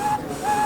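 A person whistles with the tongue held under it, producing a single clear, steady tone that briefly fades in the middle and then returns, close and alone.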